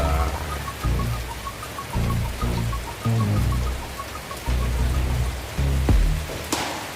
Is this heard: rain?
yes